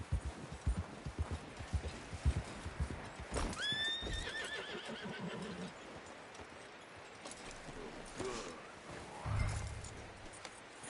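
A horse in Red Dead Redemption 2 gives a clear, high whinny amid soft clip-clopping hooves and faint mechanical clicks, the in-game sounds fairly quiet and close with no talk over them.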